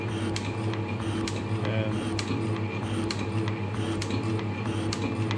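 A milling machine takes light, small step-over cuts in steel, a steady mechanical hum with regular ticking and clicking pulses repeating through it.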